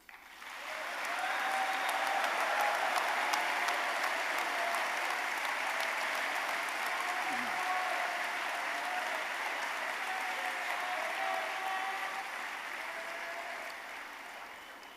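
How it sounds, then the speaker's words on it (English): A large crowd at a boys' state closing ceremony claps for the citizens of the week, rising quickly into sustained broad applause that holds steady before tapering slightly near the end. "give them a round of applause"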